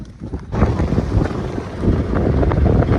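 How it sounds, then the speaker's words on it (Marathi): A fishing boat sets off from a jetty, with an engine rumbling continuously and wind buffeting the microphone. The noise swells after a brief quieter start and stays loud and steady. "आपली बोट रेडी आहे तर चला निघूया"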